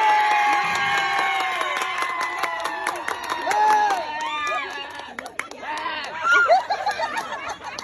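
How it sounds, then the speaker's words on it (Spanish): A family gathering crowd cheers and shouts with scattered clapping, voices overlapping in lively bursts and laughter rising and falling throughout, fairly close and busy. "¡Palmas y gritos para el Yuriko!"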